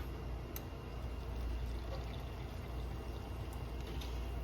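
Coffee pours from a pot in a steady, faint liquid stream, quiet and unbroken for a few seconds, with no voices.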